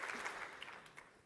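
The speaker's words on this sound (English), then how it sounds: "So just a quick round of applause, because it's very nice of him to do that." Faint applause from a conference audience at a live tech event in London, a brief, soft round of clapping heard from a distance.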